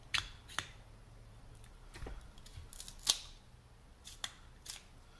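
A Gurkha cigar tip being cut off, heard as quiet, close clicks and snips scattered across a hushed background, with one sharper cut standing out in the middle.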